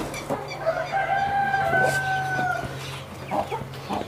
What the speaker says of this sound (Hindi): और अंदर आई थिंक अयाम समानी के चिक्स हैं